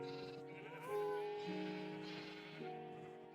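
Sheep bleat repeatedly in a Minecraft farm, several overlapping calls close by over faint game music.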